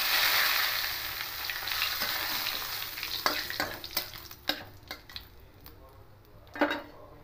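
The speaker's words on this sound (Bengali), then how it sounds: "এবার এই তেলের মধ্যে জিরে ফোড়ন দেব আর 2টো তেজপাতা দেব।" Cumin seeds and two bay leaves sizzling in hot oil, an intense hiss that fades over several seconds while sharp spitting pops and a few utensil taps sound up close.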